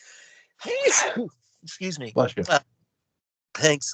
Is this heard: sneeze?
yes